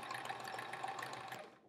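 A sewing machine stitches a sashing seam on a quilt block, a steady, quiet mechanical whir running for under two seconds before it tapers off at the end.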